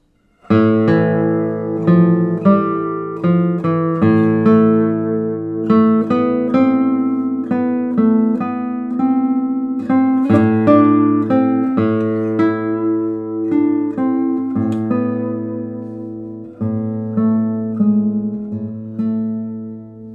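A single string of a 2023 Steven Walter classical guitar plucked in a flowing run of notes, clear and resonant, played alone at a steady moderate volume.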